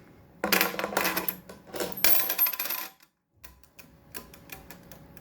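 A parrot plays with coins, dropping them so they clatter and jingle in quick bursts of metallic clinks, a dense run of bright chinks, a brief pause, then sparser scattered taps and rattles close by.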